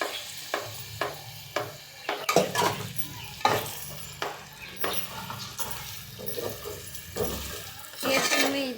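Chicken tipped into a hot frying pan and stirred for Bangalore-style chicken pulao, steady sizzling with a spoon scraping and clinking against the pan, close and moderately loud.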